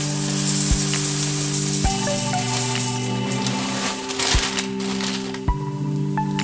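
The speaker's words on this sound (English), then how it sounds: "I've added my dry fruits back to the pot, and I'm going to add now cornflakes." Unsweetened cornflakes tipped into a pot holding dry fruits for chivda: sparse dry cracks and crackly rustling over a steady hum, close by, with no one talking.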